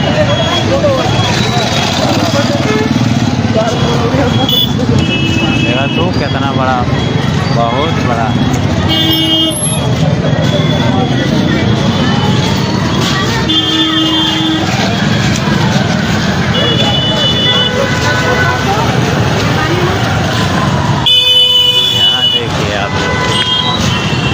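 Busy road traffic in Ayodhya rumbles past while car horns toot again and again, some near and sharp. A person talks almost throughout over the steady vehicle noise.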